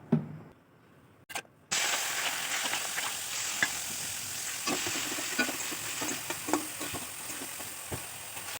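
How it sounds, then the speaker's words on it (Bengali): Prawns frying in mustard oil in a wok, a steady bright sizzle that bursts in after a brief quiet start and a clatter, with small pops and stirring ticks scattered through. "সর্ষের তেলে চিংড়ি মাছটাকে আমি ভেজে নেব"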